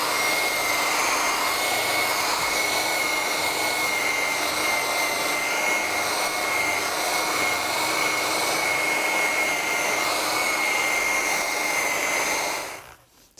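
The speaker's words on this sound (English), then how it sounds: "This is a nylon bristle wheel here. It's not very abrasive" A nylon bristle wheel on a power tool scrubs the surface of a log stair tread with a loud, continuous whirring and brushing roar that holds steady, then dies away at the end.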